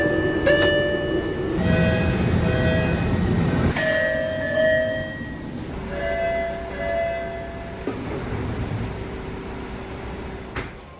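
A Hawker Siddeley Type 12 train with air ride suspension runs along, a steady rumble with bright tonal whines and brief clunks over eleven seconds.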